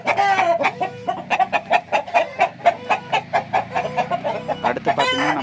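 A rooster being raised for sale on a farm clucks in a rapid, loud, rhythmic series of calls close by, ending with a crow, with no talk over it.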